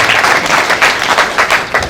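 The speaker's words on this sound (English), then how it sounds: "So applause." Crowd at an official outdoor launch event claps together, a short burst of dense, loud applause from many hands, close and continuous.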